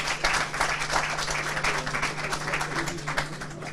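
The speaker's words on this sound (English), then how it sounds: "A round of applause." Audience at a professionals and business engagement event applauding a guest coming on stage, uneven bursts of clapping with a low steady hum beneath, moderately loud and sustained.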